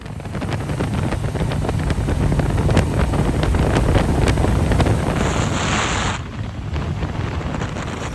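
Motorcycle ride on a freshly repaired bike, with heavy wind buffeting the microphone and a steady engine drone underneath, loud and continuous throughout.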